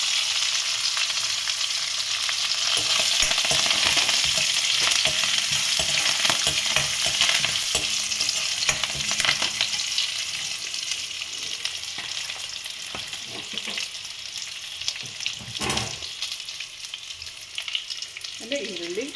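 Red chilies and curry leaves crackle and sizzle in hot oil, a loud, dense frying hiss that runs steadily throughout with stirring scrapes layered on top.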